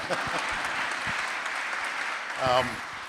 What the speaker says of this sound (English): You can clap for Rabbi Heschel